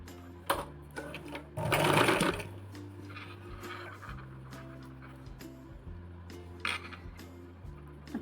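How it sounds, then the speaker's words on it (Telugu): A sewing machine stitches cloth in short motor bursts separated by pauses, with a busy rattling clatter in one stretch and faint clinks between runs. "ఇంకా ఇక్కడ నుంచి మనం ఇప్పుడు స్టిచ్ చేయడం స్టార్ట్ చేయాలి"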